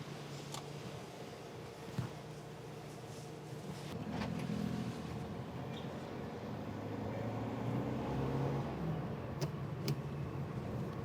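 A Honda car with an ABS fault idles and reverses, its engine giving a steady low, even hum throughout with a slight swell partway, close by and with no talking.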